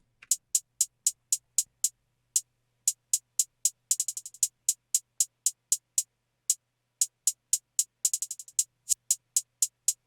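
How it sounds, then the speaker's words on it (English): Trap hi-hats tick in a fast, steady pattern of crisp, bright hits, with two quick rolling bursts in between, clear and alone over faint low hum. "Next, we've got a hi-hat"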